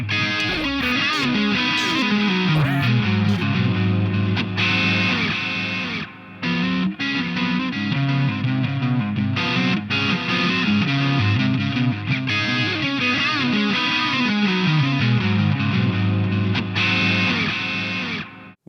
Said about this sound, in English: I found the delay pretty invasive, so that's the reason why I was using a low level and a low feedback